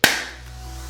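A single sharp hand clap, loud and close, rings briefly and fades into a quiet room hum.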